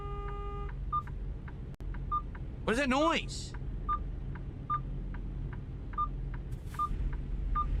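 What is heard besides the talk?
repeated beeping in a trucking simulator video game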